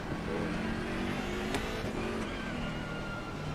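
Race car engine in Assetto Corsa Competizione, driven in the rain at Hungaroring, droning steadily at high revs with shifting pitch, loud and continuous throughout with a brief sharp transient midway.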